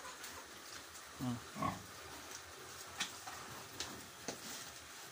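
Pigs in a small backyard piggery give a few short grunts and squeals, faint against a quiet background with scattered clicks.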